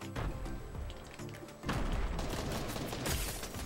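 Gunfire in the video game Fortnite, a dense burst of rapid shots and thumps over busy game sound, loud and continuous for a few seconds with no talk.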